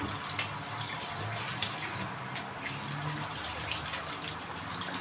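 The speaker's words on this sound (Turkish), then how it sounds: "Şöyle Etlerimi yıkayayım." A kitchen tap runs steadily as raw meat is rinsed under it, a constant close gush of water with faint splashes and no voices.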